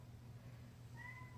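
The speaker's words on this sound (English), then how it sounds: "You may be able to hear my cat here meowing in the background" A faint, short meow from a cat somewhere in the background of a room, a single rising cry lasting about half a second over a steady low hum.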